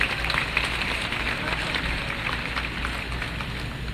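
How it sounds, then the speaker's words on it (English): An audience at the blessing of the Xavier Ateneo Sports Centre applauds in a dense, steady wash of clapping that starts strong and holds evenly for a few seconds. "Let's give a round of applause to Father Eric Belandria"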